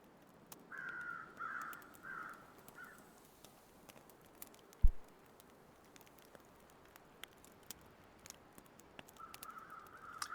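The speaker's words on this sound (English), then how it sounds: "This is the sound of normal crows." Crows caw in several short bursts in the snowy wilderness survival game The Long Dark, a cluster of calls near the start and more returning at the end, fairly distant over a quiet background with a single thump midway.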